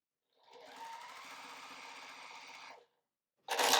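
Sewing machine stitching fabric scraps together for a scrap quilt brick block, one steady run of stitching lasting about two seconds before it stops, then a short loud rustle of handled fabric at the end.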